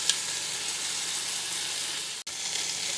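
Beef browning in a pan for bourguignon gives off a steady, even sizzle throughout, close and moderately loud, with one brief dropout near the end.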